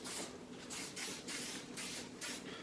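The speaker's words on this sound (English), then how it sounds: "I'm going to spray that up. Just use a little bit of canola cooking spray" Canola cooking spray misted from a can onto a wire cooling rack to keep pork belly burnt ends from sticking, five or six short hissing bursts in a steady rhythm, close and fairly loud.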